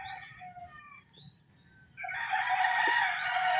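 A rooster crows loudly and clearly, a long drawn-out call rising after a quieter stretch of faint clucks and bird sounds.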